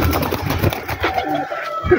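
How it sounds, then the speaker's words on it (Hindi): Soft cooing of high-flyer pigeons, a few low murmuring calls close by amid light rustling and background noise. "बड़ी क्वालिटी का कबूतर है"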